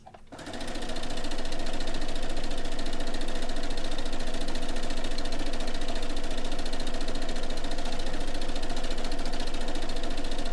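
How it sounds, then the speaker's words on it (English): A sewing machine stitches dog beds, spinning up within the first half second into a fast, even, mechanical whirr that runs loud and unbroken to the end with no talking. "Because I'm sewing them."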